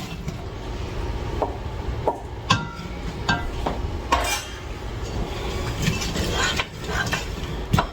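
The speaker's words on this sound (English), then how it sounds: "adding some oil to the bottom of our pan, our pot, throwing in our peppers and onions" Habanero peppers and onions thrown into oil in a cooking pot, giving a steady sizzling hiss punctuated by light clattering knocks and scrapes of utensils against the pot.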